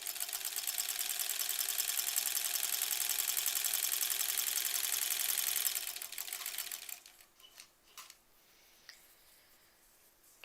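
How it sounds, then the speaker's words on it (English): A sewing machine runs steadily through dark blue quilt border strips, a fast, even mechanical whir for about six seconds, then stops, leaving a few soft handling clicks and taps. "Feels good to just sew these strips."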